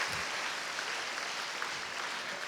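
An indoor audience at a menstrual hygiene awareness event claps in a steady wash of applause welcoming a guest, even and sustained throughout with no talk over it.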